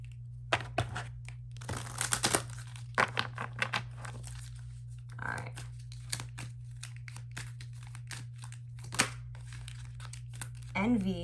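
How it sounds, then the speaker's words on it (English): A deck of playing cards is shuffled and handled in a quiet room: soft, close bursts of riffling and crinkly flicking come in irregular clusters against a faint steady hum. "One last shuffle."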